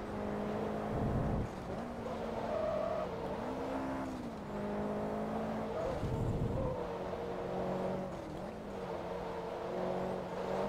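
Corvette lapping Silverstone in the Forza Motorsport 2 racing game, its engine droning steadily and rising and falling through gear changes, with brief louder bursts of tyre or impact noise, no talk.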